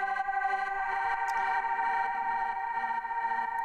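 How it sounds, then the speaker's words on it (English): Higher tension synth pad for a Drumcode-style techno track, run through a saturator, compressor and auto filter, sustains as a dense, bright, continuous wash throughout, loud and steady with no voices. "And below, we've got the higher pad."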